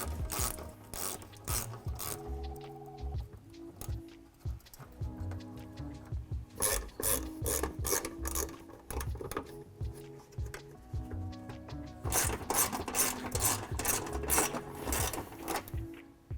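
Ratchet wrench with a 12mm socket backing out screws from the front bumper of a 2014–2021 Toyota Tundra, rapid clicking bursts repeating close up across the clip, no voices.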